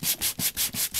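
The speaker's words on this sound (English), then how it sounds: "And by sanding this, you're getting down to the raised parts of the clear embossing powder" Rhythmic back-and-forth rubs of sandpaper over chipboard coated with clear embossing powder, about six quick, close, even strokes in a second.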